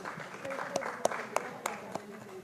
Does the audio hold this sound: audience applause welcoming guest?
yes